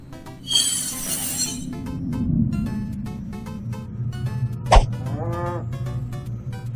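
A cow moos in a video game, one drawn-out call standing out over steady background game music, with a sharp click or hit just before another low animal call near the end.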